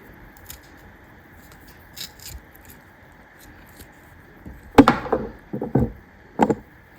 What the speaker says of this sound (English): So I'll sacrifice this tuber for your guys' purposes. Cut into it right here.